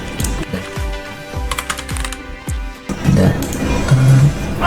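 Fast typing on a computer keyboard, a quick run of sharp key clicks and a few firmer spacebar-like taps, close up, followed by a brief voice and some muffled handling noise.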